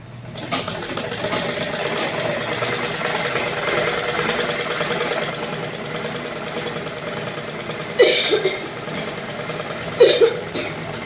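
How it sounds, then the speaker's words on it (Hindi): A sewing machine runs steadily while stitching the side seam of a lined blouse, a close, even mechanical whirr with a couple of brief louder clunks near the end. "इसी तरीके से अब हम दूसरी साइड भी सिलाई चलाएंगे"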